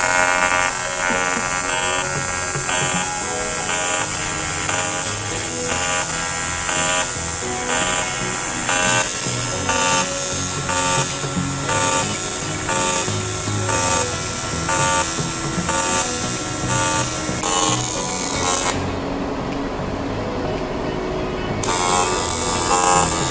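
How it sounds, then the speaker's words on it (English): Welding on a water intercooler for a jet ski turbo, a continuous loud electric buzz with a crackling texture running nearly without pause, briefly dipping near the end, with no talk. "Okay, weld it all here."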